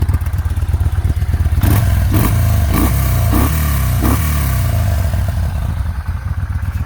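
A 2017 Yamaha SCR950 motorcycle with its stock exhaust rumbles loud and close at idle, breaking into a few sharp revs before settling back to a steady throb.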